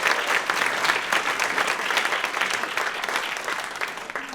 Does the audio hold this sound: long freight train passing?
no